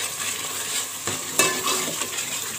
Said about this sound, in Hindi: ये मसाला में देखिए ऐसा मैंने हल्का सा ये भून लिया है।